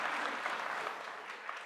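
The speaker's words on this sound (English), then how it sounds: "We can clap for Juan." An audience claps for a man named Juan who recently married, a dense, steady wash of many hands that holds at a fairly even level and eases slightly toward the end, with no voices on top.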